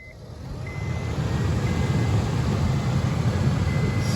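A newly installed blower motor in a 2005 Honda Accord runs after being switched on, a steady broadband whoosh that swells up over the first second and then holds at a constant level with no talking.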